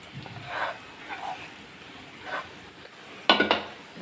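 Onion and roasted gram-flour kachori stuffing being mixed in a pan: a few soft, scattered scrapes, then a sharper pair of utensil clinks near the end, all fairly quiet.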